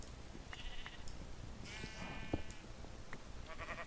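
Sheep in the survival game Nomadic bleat several times, a few wavering cries spread over the moment amid low background game noise, fairly quiet and without speech.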